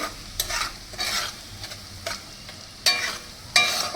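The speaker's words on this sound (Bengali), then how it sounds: "এবার আমি নাড়াতে থাকবো" Hilsa fish masala with cumin powder and salt is stirred in a frying pan, giving several scraping strokes at an uneven pace over a soft, steady sizzle.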